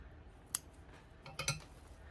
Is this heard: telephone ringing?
no